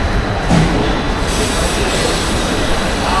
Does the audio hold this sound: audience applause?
no